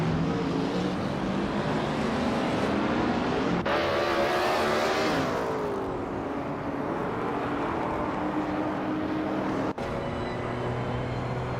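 Race cars roaring around a track in a racing video game, a dense engine drone with one car whooshing past and other engines humming close, loud and continuous without talk.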